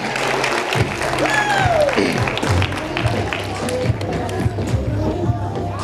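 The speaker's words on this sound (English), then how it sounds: "Give her a round of applause." Audience applause at a high school prom fashion show, a steady mass of clapping with whoops and cheers rising over it, close and loud throughout.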